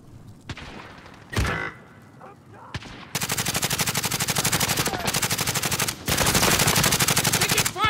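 Sustained machine-gun bursts in a tactical shooter match at Gora Dam, Fire Station 74, loud and close, after a few scattered single shots, pounding in long rapid strings with a short break between them.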